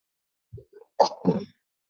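A short sharp sneeze, preceded by a couple of quick catching breaths, loud and close in an otherwise quiet room.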